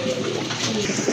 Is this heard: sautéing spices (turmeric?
no